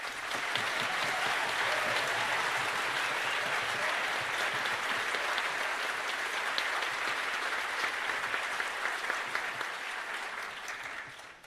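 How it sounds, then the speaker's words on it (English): A concert audience at a high school spring concert gives a dense, sustained round of applause for the young orchestra, steady for about eleven seconds before tapering off at the end. "So please give them a round of applause."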